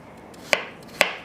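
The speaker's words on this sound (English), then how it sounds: "I'm going to be cutting up my carrots now in blocks" Knife chopping carrots into blocks on a cutting board in a home kitchen, two sharp separate chops about half a second apart, close and distinct over a quiet background.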